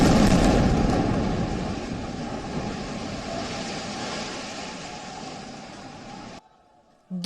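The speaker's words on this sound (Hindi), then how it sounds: "पहला धमाका।" An Israeli air strike hits a building in Gaza with a heavy, broad roar that stays loud and slowly fades over several seconds before cutting off abruptly.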